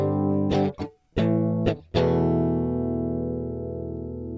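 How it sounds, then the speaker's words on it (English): Clean electric guitar tone with no distortion: a few sharp plucked notes and chords in quick succession, then a final chord left ringing and slowly fading. "I should just show you my clean tone."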